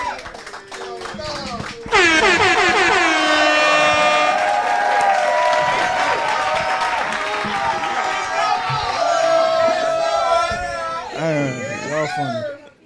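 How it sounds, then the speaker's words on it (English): A live listening-party crowd cheers and makes noise, with loud sustained air-horn blasts ringing out over the din for most of the stretch, while someone talks over it near the end. "Y'all make some noise for Dom, man"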